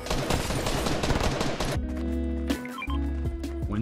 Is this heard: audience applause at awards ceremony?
no